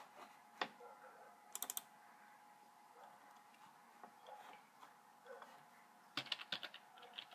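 Quiet, sparse laptop keyboard typing with scattered individual keystrokes and a couple of quick bursts of clicks against low room hum.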